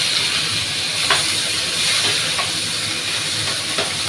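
A whole tomato with onion paste, garlic paste and spices sizzles steadily in a hot pan, giving a continuous hissing fry with a few faint stirring scrapes and no talk over it.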